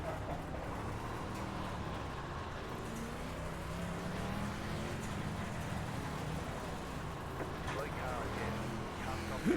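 A race car in the iRacing simulator drives with a continuous engine hum and road rumble at moderate volume, and people talk over it.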